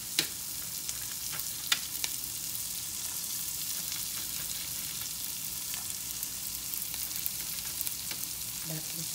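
Garlic and onion fry in butter in a home kitchen, making a steady, quiet sizzle with occasional faint stirring ticks.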